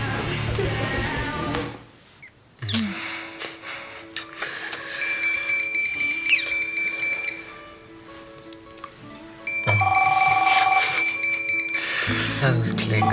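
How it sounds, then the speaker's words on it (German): An electronic phone ringtone sounds in two sustained bursts in a German soap-opera scene. Thin, bright tones play over quiet room sounds, with people talking around them. "Lass es klingen."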